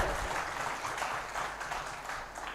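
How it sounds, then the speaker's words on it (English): Audience applause at a law lecture series event, a steady wash of clapping from a crowd that holds evenly throughout without pause. "So give a big round of applause to all of us."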